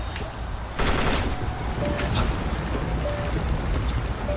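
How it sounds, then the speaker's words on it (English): Rapid gunfire in the shooter game Timeshift, a dense burst of shots starting partway in and continuing as a steady crackling barrage under a busy game soundscape. "I think I'm getting shot, but I don't know."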